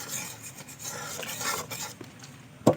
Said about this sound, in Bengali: আমি এবার অল্প অল্প বেসন দেবো আর এভাবে গুলিয়ে নেব রসে